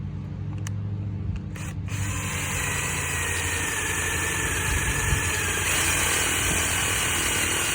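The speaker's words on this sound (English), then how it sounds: "I got the second hole drilled" A drill bores a hole into a campsite rocket stove with a continuous low, grinding motor drone. There are a few sharp knocks at the start, and the sound holds steady for several seconds with no talking.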